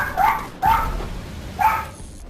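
Three loud, close dog barks from the VR game Gun Raid come in a quick uneven sequence, each a short sharp woof, with no speech.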